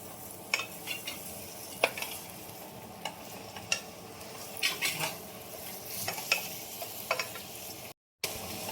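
Gulamba, a mango jam cooked in ghee, is stirred in a pan over a low flame, with a soft simmering sizzle and repeated scraping and clinking of the spoon against the pan, close up and with no voices.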